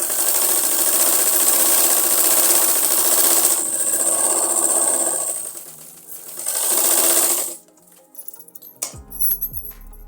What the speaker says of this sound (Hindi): यहीं से मशीन को घुमाते हुए हमने डबल सिलाई कंप्लीट करनी है।